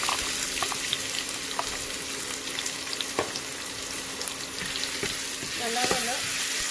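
Chopped onion sizzles steadily in hot oil in a pan for a Kerala-style vatta fish curry, with scattered taps of a spoon stirring near the end, close and continuous with no talk.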